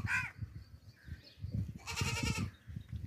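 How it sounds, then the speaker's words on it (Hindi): A plump, fattened castrated sacrificial goat gives a short bleat, then a louder, longer one about two seconds in, close by over low murmuring and shuffling. "मोटा ताज़ा कुर्बानी का बकरा है"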